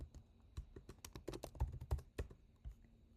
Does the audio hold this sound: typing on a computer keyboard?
yes